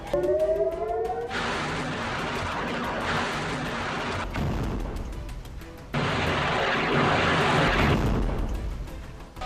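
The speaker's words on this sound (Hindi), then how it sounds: "मैनिशे और नेतन्याह सेटलमेंट के उत्तर पूर्वी इलाकों में हवाई हमलों के सायरन बजे" Air raid sirens sound across areas near the Lebanon border during the Israel–Hezbollah conflict; a brief wavering tone opens, then loud, sustained broadband roar and rumble fill the rest, surging again midway.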